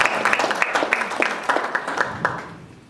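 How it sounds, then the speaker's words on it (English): Conference audience at a political summit claps to welcome a session chair, a short burst of scattered, fairly close hand claps that thins out and fades within a few seconds. "A round of applause for her."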